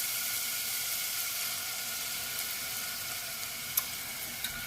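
Black beans and reserved bean liquid sizzling in hot oil in a pan, a steady close hissing fry with a few faint clinks, no talk.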